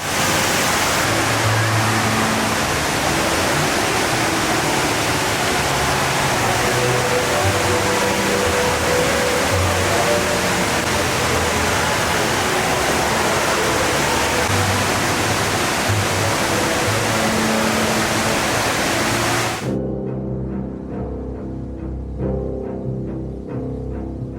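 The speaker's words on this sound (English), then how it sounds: "Don't be mesmerized by the waterfall only." A loud, continuous roar of the indoor waterfall at Jewel, Singapore's airport, a dense steady rush of water that cuts off abruptly near the end.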